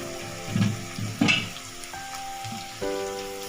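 Local chicken and potatoes fry in an oily pan with a close, loud sizzle while being stirred, giving a few bumping, scraping thuds and a steady crackle underneath.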